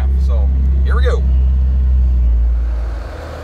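A truck engine runs steadily while plowing snow, a loud low rumble holding through most of the moment before easing off near the end, with a brief whistling or squealing sweep early on.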